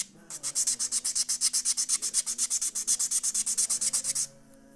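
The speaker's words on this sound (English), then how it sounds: "it's actually doing a good job of sanding it down" A rotary sander works over a small diorama piece, giving a rapid run of about thirty rhythmic, bright rasping strokes, close and loud, that stop abruptly near the end.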